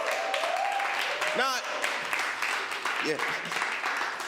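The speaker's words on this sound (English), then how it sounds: "Y'all please give him a round of applause, man." Crowd applause at an open mic night in a coffee house, a steady moderate wash of clapping with a brief voice and a short whoop over it.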